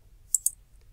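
Two quick, crisp computer mouse clicks close together, sharp and near against near-silence while shapes are edited in Paint 3D.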